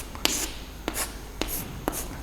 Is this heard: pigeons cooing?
no